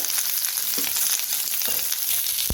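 Onion sizzling in hot oil in a pan for a village-style chicken curry, a steady bright crackle with a few sharp knocks of a spoon against the pan; no voices.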